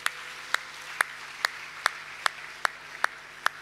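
Single pair of hands claps in a slow, even rhythm inside a church, about nine crisp claps spaced roughly half a second apart over a quiet, reverberant background.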